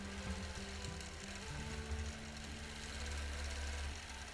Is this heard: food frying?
no